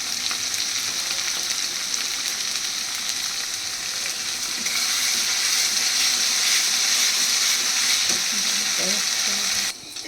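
Cumin-ginger paste dropped into hot oil in a pan for a katla fish kalia: a continuous, loud, close sizzle that swells partway through, with occasional light scrapes and a clatter near the end, and no voices.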